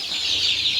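Andijan black chicks chirp in a dense, continuous chorus of high, thin peeps from a brooding group nearby, with no voices over them.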